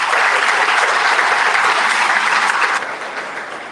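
An audience at a chamber of commerce annual awards luncheon claps loudly and continuously in a dense, near wash of applause that eases off slightly toward the end.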